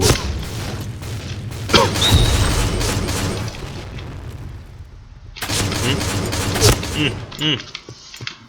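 Uzi submachine gun gunfire in the video game Point Blank, loud bursts and booms in clusters with mechanical clatter, under excited voices talking over the action.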